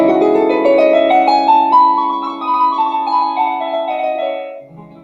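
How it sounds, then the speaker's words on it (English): A minor scale is played on a pitched instrument, steady sustained notes climbing and then falling in a slow run, close and prominent with no one speaking. "Now, minor scales sound like this."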